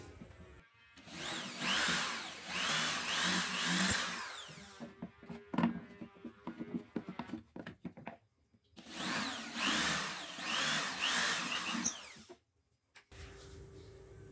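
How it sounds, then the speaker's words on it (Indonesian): A power drill bores into a 40 cm wooden piece for a folding chair in two long, loud bursts, with clattering and knocking of tools between them. "Bor kembali untuk ukuran kayu panjang 40 cm di salah satu sisi."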